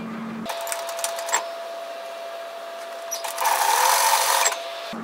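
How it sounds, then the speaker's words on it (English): A sewing machine stitching a robe seam between notches, a fast close whirring run that starts and stops, with a slightly louder burst near the end before it halts. "we're just going to stitch between those notches"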